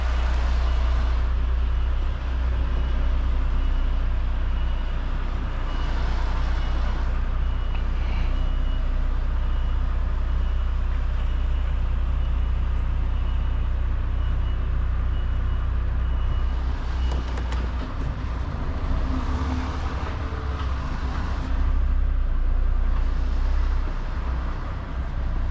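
A truck unit reversing and straightening a trailer in a yard: a continuous low diesel engine rumble with faint intermittent reversing beeps over it, steady throughout without speech.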